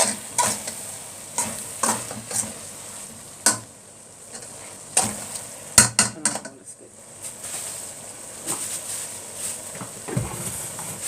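Onions frying in ghee on a stove for a Upper Egyptian taqliya garlic-onion fry, a steady soft sizzle broken by repeated sharp scraping stirs and utensil knocks against the pan, with no voices.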